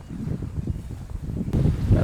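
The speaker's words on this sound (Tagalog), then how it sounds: "Pero lakas ng hangin, sarap." Strong wind buffets the microphone outdoors on a farm, a steady low rumbling roar with gusts that swell louder near the end.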